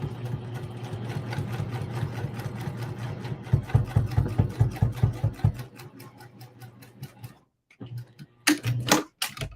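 A sewing machine stitches steadily through four layers of thick quilting fabric, its rapid needle chatter close and loud, then slowing into separate thumping strokes, pausing briefly, and starting up again in short bursts.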